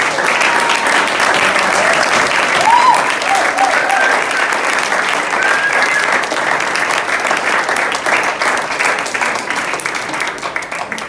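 A church congregation applauds to acclaim the Lord during a baptism service, a loud, sustained wash of clapping from many hands that carries on steadily for the whole stretch with a faint voice or two underneath.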